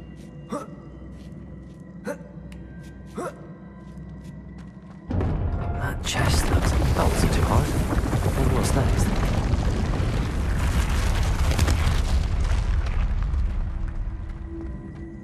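Depulso spell in Hogwarts Legacy bursts into a sudden loud blast that follows a few sharp clicks, then lingers as a sustained rushing, crackling roar under a spoken voice.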